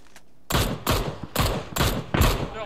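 Gunfire in a shooting video game: after a faint shot, five loud, evenly spaced bursts of rapid fire crack out up close, each followed by a brief ringing tail.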